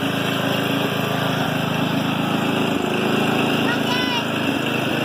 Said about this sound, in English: Me riding the tractor.